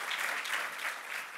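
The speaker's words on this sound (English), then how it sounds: "A big round of applause." An audience applauds steadily at a school project presentation event, a dense, sustained wash of many clapping hands, fairly distant and even, with no voices.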